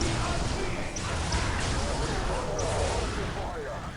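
Ravager gunfire in a Dark Eldar versus Death Korps of Krieg strategy game battle: a dense, steady wash of distant battlefield fire with sporadic sharper shots throughout, under game ambience.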